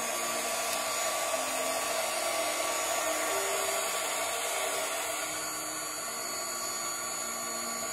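A hair dryer drying the second coat of paint on mushroom gnome candle holders blows with a steady, loud, high-pitched whir that runs unbroken for the whole stretch, with no talking.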